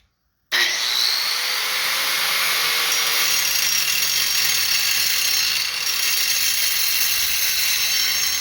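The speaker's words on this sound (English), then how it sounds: "Now we're gonna take a grinder, run right down through here and open this case up." An angle grinder bites into the metal case of an electric motor being scrapped, starting abruptly and cutting continuously with a loud, harsh, high-pitched whine close up, steady throughout with no talking.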